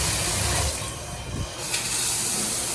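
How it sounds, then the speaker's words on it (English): Water from a shower in a dorm bathroom rushes in a steady hiss, loud and close, briefly dipping before surging back at full pressure. "And then let's check out the shower. How's the water pressure?"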